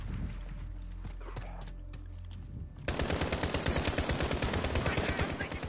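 A .50 caliber pistol fires in Modern Warfare gameplay, a rapid string of loud, close, sharp reports in quick rhythm, following a quieter stretch of game ambience with a low hum.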